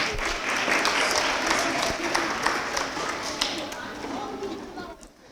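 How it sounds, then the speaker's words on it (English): Students and families at a school awards assembly clap in a loud, sustained round of applause that holds steady before tapering off near the end. "let's give these kids a big round of applause for not missing a minute"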